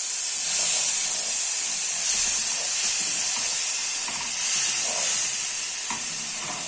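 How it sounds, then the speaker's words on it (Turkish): Sugar syrup is poured and stirred into semolina halva in a hot pan, producing a continuous loud hiss and steamy sizzle with gentle swelling and fading from the stirring. "Şimdi bu şekerli suyumuz arkadaşlar döke döke karıştırıyoruz."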